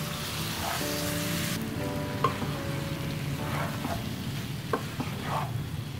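Tomato pieces are stirred into a frying masala, with a steady broad sizzle throughout and a few faint scrapes and clinks of a spoon against the pan, no voices.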